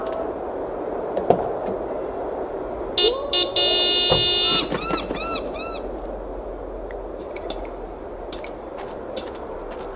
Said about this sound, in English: Do me a favor and honk the horn.